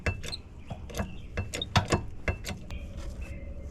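A hand-cranked jack raising a trailer wheel on a 2003 Coachmen Clipper Sport 086 with Dexter axle, giving irregular metallic clicks and ratcheting clinks close by, with faint low rumble beneath.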